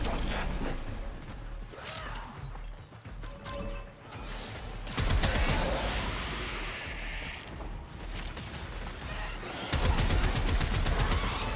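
Weapon fire in Warframe, long sustained bursts of rapid mechanical shots in several stretches separated by short gaps, moderately loud over game background noise, with no talking.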